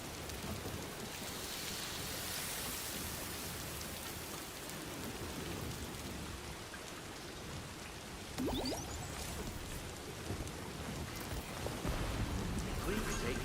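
Rain pours steadily in the video game Death Stranding 2, a dense continuous wash with a low rumble of thunder, and a brief electronic sweep near the end.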